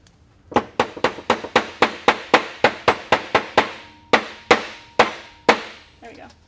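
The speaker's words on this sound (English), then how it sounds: "We love hammering live on air." Wood joinery: a mortise and tenon joint is driven together with about sixteen sharp, ringing hammer blows in a steady rhythm, slowing toward the end, loud and close.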